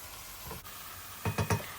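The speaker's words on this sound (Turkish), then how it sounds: "Az bir yağın içerisinde kıyma suyunu salıp çekinceye kadar öncelikle kavuruyorum." Ground beef, about 400 grams, frying in a little oil, with a soft steady sizzle and a few quick scraping stirs near the end.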